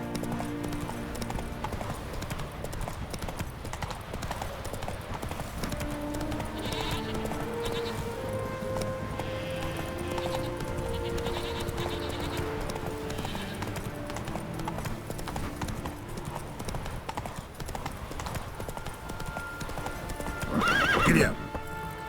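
Horse hooves clip-clopping steadily throughout in The Witcher 3 gameplay, with a loud neigh near the end and game music and ambience underneath.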